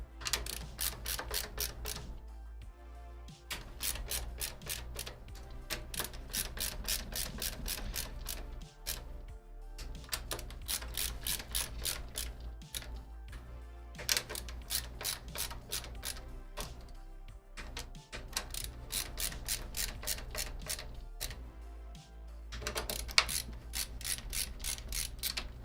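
Steady clicking of a ratchet tightening bolts during PC assembly, rhythmic ratcheting strokes repeating close-up through the whole stretch with brief pauses between runs.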